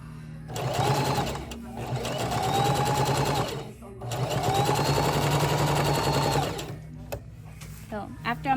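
A Singer Heavy Duty sewing machine stitches in two sustained runs of rapid mechanical whirring, each a few seconds long with a brief pause between, close and loud, then stops.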